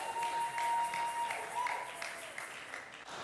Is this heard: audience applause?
yes